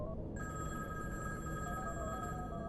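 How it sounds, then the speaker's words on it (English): A telephone rings inside the video game Backfirewall_, a steady electronic bell tone that holds throughout, fairly faint over a dense background hum, with no talk. "Which phone is ringing?"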